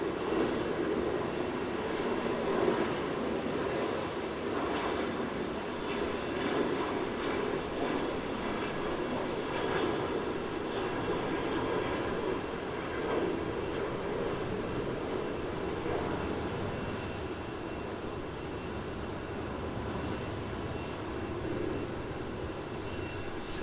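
An airliner on the Melbourne–Sydney milk run at Melbourne Airport gives a distant, steady jet roar that holds evenly throughout, faint and broad with no voices over it.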